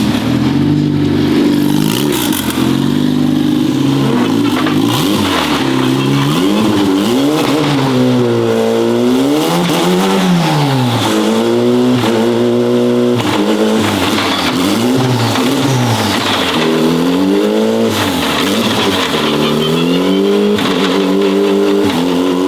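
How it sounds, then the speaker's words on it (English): A Honda four-cylinder engine in a restored widebody NSX revs and accelerates hard, its pitch climbing and dropping through repeated sweeps as it pulls through gears, loud and close with almost no talk. "For a Honda 4-cylinder, that sounds amazing."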